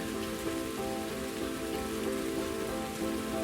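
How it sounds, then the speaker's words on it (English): Rain falls steadily in a constant even hiss, moderately loud and close, with no voices or breaks. "And as you can see, it's raining."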